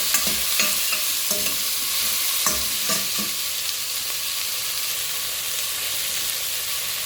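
Vegetables fry in a pan for a broccoli soup, a loud steady sizzle close up, with a few sharp scraping stirs early on and then an even crackling hiss, no talk.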